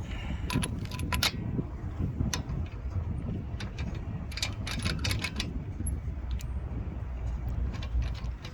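Small, heavy aftermarket metal lug nuts clink and jangle together in the hand in irregular bursts of bright metallic taps, close by over a low background rumble.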